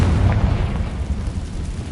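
A Confringo blasting spell explodes in the video game Hogwarts Legacy, a loud, dense boom with sustained low rumble that rolls on for about two seconds without easing.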